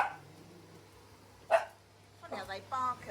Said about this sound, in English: Funny how they bark at a Hoover like this,